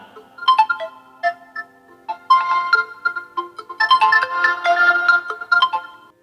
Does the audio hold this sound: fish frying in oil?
no